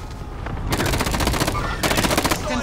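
Rapid automatic gunfire in a Call of Duty battle-royale match rattles off in two loud, tight bursts, with scattered shots and game ambience between them.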